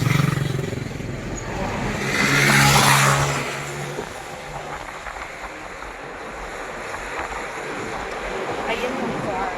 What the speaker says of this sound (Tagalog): Ayan yung car.